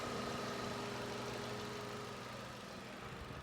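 A Nissan Altima or Sentra engine idles steadily with its radiator cooling fan running, giving a continuous low hum and whir that holds constant throughout with no talking.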